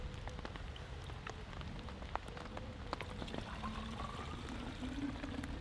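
Heavy rain pours steadily on a camping spot, a dense close hiss of drops with scattered sharper taps and faint trickling, continuing without pause.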